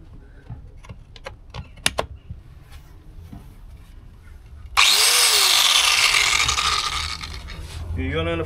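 An angle grinder starts up partway through and roars loud and continuous for several seconds after a stretch of quiet clicks and handling noise during a repair, with brief voices around it.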